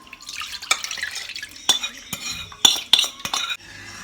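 A utensil scrapes and clatters against a pan in quick irregular strokes, with sharp metallic clinks as flour batter for Thai corn pudding is stirred.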